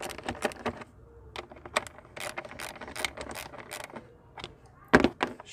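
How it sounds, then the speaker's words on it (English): A ratchet with a 10mm socket clicks in quick bursts of rapid pawl ticks while loosening long bolts on a coolant reservoir of an Ecoboost Mustang, close and fairly crisp, with short pauses between strokes and no speech. "the first thing you're going to need is your ratchet with your 10mm socket to remove your coolant reservoir"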